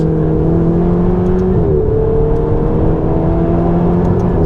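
A Ferrari 488 GTB's engine drones steadily from inside the cabin while driving, with a smooth rising tone and a brief dip partway as a gear change shifts the pitch, loud and continuous.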